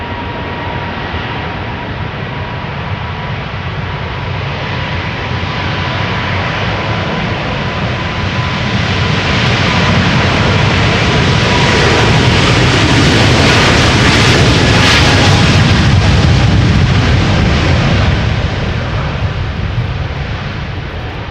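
KLM jet airliner at Schiphol's Polderbaan runway, bound for Sao Paulo, roaring through its takeoff run: a loud, broad engine rumble builds and swells to a peak around the middle before slowly easing, with no voices.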